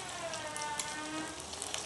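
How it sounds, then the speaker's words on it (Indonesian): Tapioca-starch-coated tofu frying in hot oil, giving a steady faint crackling sizzle with scattered small pops throughout, heard alone without voices. "Goreng sampai renyah ya teman-teman"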